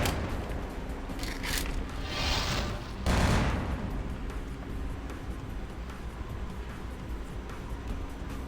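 Gunfire in the vampire action game Vampire: The Masquerade – Bloodlines, set in Chinatown: a dense, loud fusillade of shots with heavier booming bursts, continuous throughout with no one talking.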